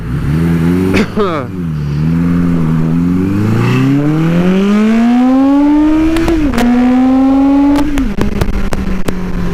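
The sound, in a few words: Suzuki GS850 scrambler motorcycle engine accelerating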